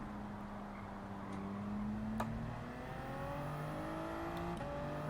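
Ferrari race car engine in Gran Turismo holding a steady high drone, pitch sliding slightly as throttle eases and builds again, with faint rival engine lines and brief clicks over the continuous roar.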